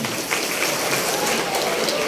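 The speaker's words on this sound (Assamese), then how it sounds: "এটা হাত চাপৰি এটা দিয়ক আপোনালোকে।" An audience at a felicitation function claps to welcome an honoured guest, a thick, even patter of many hands that carries on steadily throughout.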